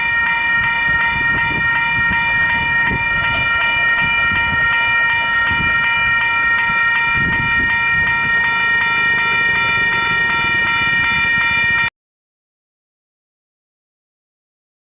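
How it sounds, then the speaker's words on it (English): A train rumbles loudly past a level crossing at a station while the crossing's alarm bells chime steadily overhead, continuous and close for about twelve seconds before cutting to silence. "I've got to be quick because the train is coming"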